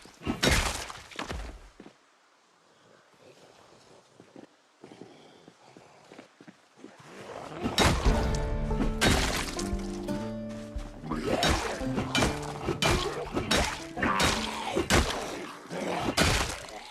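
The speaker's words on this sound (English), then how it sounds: "I just like the noise that the car makes when you hit it." A car being struck and smashed in Project Zomboid, a series of heavy metallic thunks and shattering impacts, some spaced and some in quick clusters, loud and close amid game ambience.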